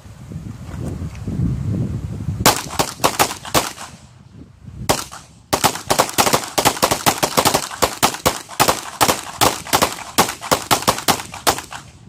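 Pistol shots at a shooting training range, a long series of sharp, loud cracks from several shooters firing in quick, uneven succession after a brief pause, with little talk.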